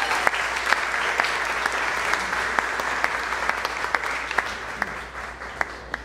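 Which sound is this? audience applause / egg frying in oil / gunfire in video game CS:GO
audience applause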